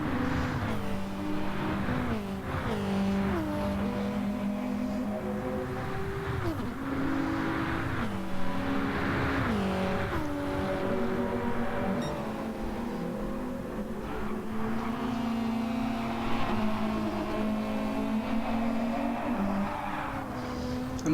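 A race car engine in a racing game at Monza revs and shifts through gears repeatedly, with pitch sweeps up and down and occasional tire squeal, loud and continuous for about twenty seconds.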